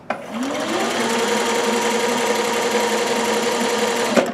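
A Consew 1001 sewing machine on a servo motor in a domestic treadle base runs continuously at a steady speed, a loud mechanical whir and rattle close by, with a faint voice briefly underneath.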